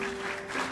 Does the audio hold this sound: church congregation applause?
yes